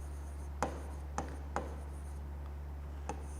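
Chalk taps and short scrapes on a classroom board during a maths lesson, four sharp, quiet strokes spaced irregularly over a low steady hum, with no talking.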